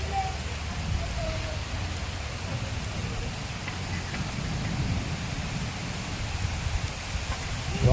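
Heavy rain pours steadily under a cloudy sky at a scenic spot, a dense continuous hiss on surfaces with a low rumble beneath, constant and fairly loud throughout with no talk.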